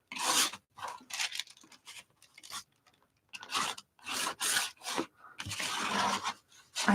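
Paint being scraped onto a small art trading card, a series of short, close rasping scrapes in uneven bursts separated by quiet pauses.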